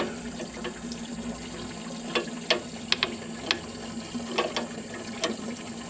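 Wrench work on a hydraulic fitting of a Farmall 706 tractor, with a steady low hum underneath and a series of sharp metallic clicks and ticks spread across the span, moderately close and with no talking.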